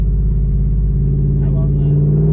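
A Ford car's engine rumbles in a low, steady drone, close and continuous, with a brief voice mid-clip.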